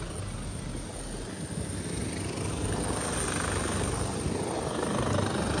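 A helicopter flies over the flooded town of Wajima, Japan, its rotor and engine making a steady, continuous droning whir at moderate distance that swells slightly toward the end, with no voices.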